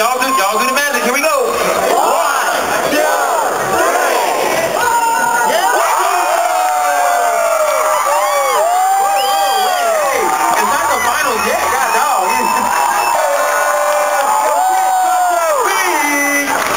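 A crowd at a popping dance battle cheers, whoops and shouts in loud, rolling waves, with voices rising and falling throughout and people calling out over the noise.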